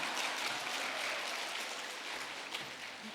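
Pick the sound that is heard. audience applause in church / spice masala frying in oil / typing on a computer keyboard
audience applause in church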